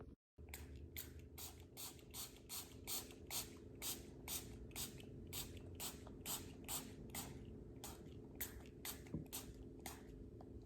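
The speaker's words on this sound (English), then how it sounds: "So you can go ahead and keep spraying." A spray bottle pumped over and over in a steady rhythm, each short hissing spritz close and crisp, more than twenty in a row.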